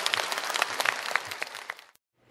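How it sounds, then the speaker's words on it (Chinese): A crowd at a political speech rally in Chiayi gives a warm burst of applause to welcome the speaker, dense clapping that fades out abruptly into silence. "请你用掌声来欢迎咱吴董事长。"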